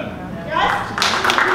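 An audience at a parent and family workshop in an elementary school claps hands, a brief burst of scattered applause that swells after a moment, mixed with overlapping talk.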